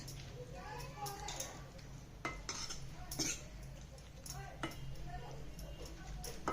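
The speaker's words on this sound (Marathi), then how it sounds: "हलवून घेऊया छानपैकी." Utensil clinks and scrapes against a pot as bottle gourd and dal curry is stirred, irregular light taps over a low background hum, faint and close; a voice speaks at moments.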